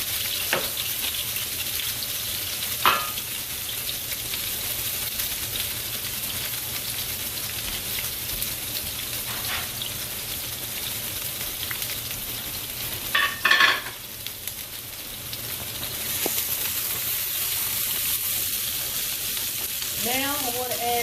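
Peppers and onions sauté in a pan with a steady, moderate sizzle and crackle, interrupted now and then by the scrape and clatter of a utensil stirring the vegetables.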